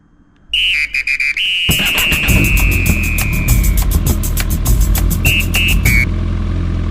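A motorcycle rides along a road up close. A high whistling whine at the start is followed by a steady, loud engine rumble and wind noise that last until the end.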